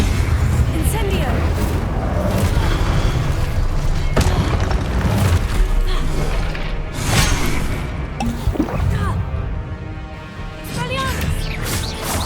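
The Incendio fire spell cast in the Hogwarts Legacy video game, a series of loud booming bursts and crackling flares among other spell effects in a continuous busy battle mix, with no talk heard.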